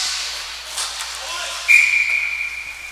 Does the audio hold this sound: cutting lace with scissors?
no